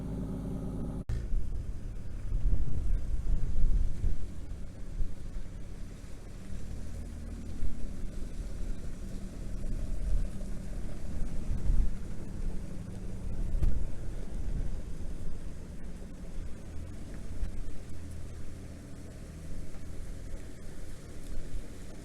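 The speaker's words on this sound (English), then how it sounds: "Now we can park the 48 sedan delivery up by the house so it's ready for the morning." A 1948 sedan delivery rumbles along at low speed, its engine a steady close drone with wind and road noise throughout, no talking.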